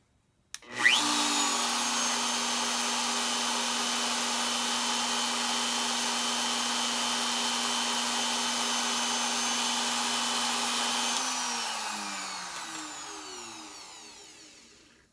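A DeWalt 611 router snaps on and holds a loud, steady high-pitched whine, then shuts off and spins down near the end, with no talking.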